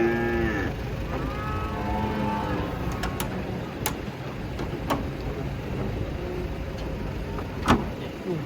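Cattle are unloaded from a truck, with a loud close moo at the start over a steady engine rumble and occasional sharp metallic knocks and clanks.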